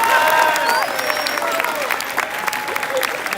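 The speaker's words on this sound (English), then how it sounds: "Can we give them one more round of applause," Conference audience applauding at an opening ceremony, a dense burst of clapping with some cheering and crowd voices, loud at first and then easing off slightly while staying steady to the end.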